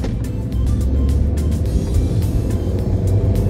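A Peugeot 206 SW 1.4 estate car accelerates, its engine note a steady, loud low rumble that builds and holds throughout with no voices.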